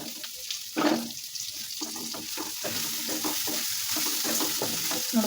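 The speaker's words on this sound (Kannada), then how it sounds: "ಈಗ ತೆಗೆದು ಒಂದು ಸಾರಿ ಮಿಕ್ಸ್ ಮಾಡ್ತೀನಿ." Brinjal curry being stirred in a pot, a steady scraping and sizzling bubble with a louder clatter near the start, close and without talk.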